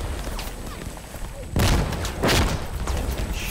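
Mortar round exploding in the Insurgency Sandstorm video game: a sudden loud, close boom with a heavy low-end thud, then a second blast rolling out, amid battlefield noise.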